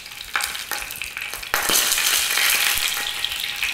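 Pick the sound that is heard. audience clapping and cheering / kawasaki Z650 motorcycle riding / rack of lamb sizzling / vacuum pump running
rack of lamb sizzling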